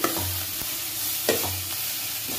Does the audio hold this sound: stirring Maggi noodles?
yes